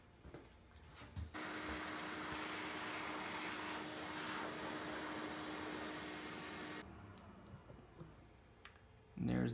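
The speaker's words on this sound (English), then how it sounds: "I'm gonna vacuum up the dust." A vacuum cleaner roars steadily for several seconds, sucking and rattling, then cuts off, followed by faint clicks and a thump.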